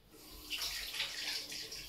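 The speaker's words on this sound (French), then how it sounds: "J'allais me rincer les mains." A kitchen tap runs while hands are rinsed, a brief, soft, steady splash of water.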